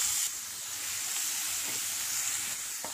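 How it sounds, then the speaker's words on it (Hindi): Finely chopped onions with cumin and green chilli sautéing in hot oil in a pan, a steady close hiss and sizzle throughout. "प्याज का थोड़ा सा रंग बदलने तक सौटे कर लें"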